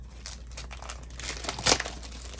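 Glossy sticker sheets crinkling and rustling as they are handled close by, in soft irregular bursts with one sharper crackle near the end.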